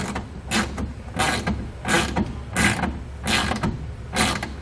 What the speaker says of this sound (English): So now we can go ahead and take a 7/16 inch socket and tighten these down.